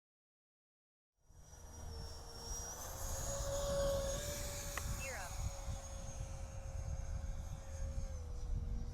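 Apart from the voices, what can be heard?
H-King FlyCat V2 70mm 12-blade EDF RC jet flying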